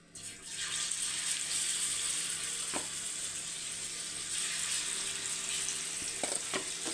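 Prawns fry on a tava in a steady, close sizzle with brief spatters and a faint clink partway through, and no talking.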